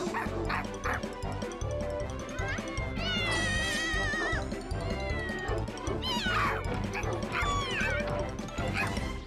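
Cartoon cat meowing amid a busy, dense soundtrack, with a puppy's barks, yips and whimpers mixed in during a dog-chases-cat scene; the mews rise and wobble in several bursts over constant music and effects.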